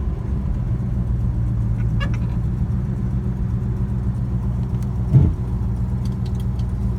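A 1969 Plymouth GTX engine idles with a steady, deep low rumble close by, a brief louder blip near the end, and faint outdoor sounds in the background.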